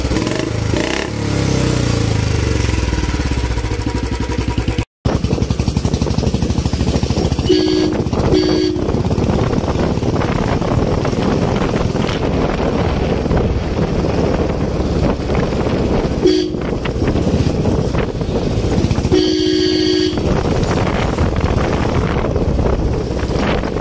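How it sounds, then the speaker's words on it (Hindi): A Royal Enfield Bullet 350 motorcycle engine thumps steadily up close as the throttle is worked, with wind buffeting and a couple of brief tonal toots in the background. "आप इस बुलेट की आवाज़ सुन सकते हैं, कितनी प्यारी है साउंड है इसकी। मैं अब इसको थोड़ा सा थ्रॉटल लेता हूँ।"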